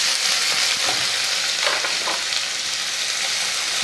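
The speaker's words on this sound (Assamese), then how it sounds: "আৰু এতিয়া ইয়াতে মই কাটি থোৱা পিঁয়াজখিনি দি দিম" Chopped onions frying in a pan for a drumstick gravy, giving a loud, continuous close sizzle with faint stirring scrapes underneath.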